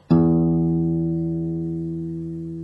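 A single low E guitar string, in tune, is plucked once and rings out steadily, slowly fading over a couple of seconds, close and clear with nothing else.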